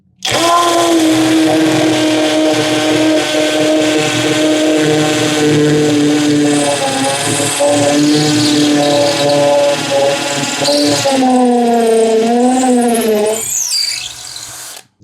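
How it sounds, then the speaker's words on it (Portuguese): A Hanabi LJ-2023 impact drill in high-speed hammer mode bores a 10 mm Irwin bit into a structural block, a loud sustained whining motor with rattling impact that shifts pitch as it bites, then cuts off. "agora a função de impacto ativado, velocidade alta, primeiro nesse bloco estrutural"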